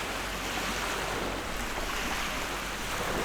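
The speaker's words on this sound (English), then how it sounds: "leaving only the sound of the tide and the seagulls circling overhead" Ocean tide washing onto a gritty shore, a steady close wash of surf with wind rushing over it, no voices.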